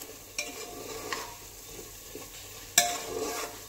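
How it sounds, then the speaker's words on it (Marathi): Spices being stirred in hot oil for chicken rassa curry, a soft, steady low sizzle with a few scraping stirs and one sharper clink of the spoon against the pan near the end. "पहा छान असे तेलामध्ये मिक्स होत आहेत मसाले."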